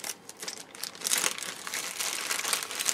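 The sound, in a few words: plastic bag being opened, crinkling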